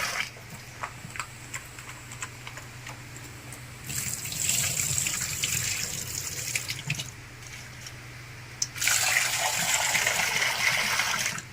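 Tap water runs and splashes in a sink while dried fish is washed, quiet at first, then two loud gushing stretches as the flow and scrubbing pick up.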